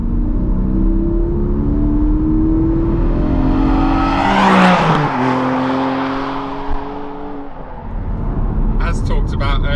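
A new Porsche Cayman GTS with the 4.0 engine accelerates through the gears, the engine note climbing in pitch with each pull and peaking in a loud wail before dropping on the shifts and settling into a steadier drone.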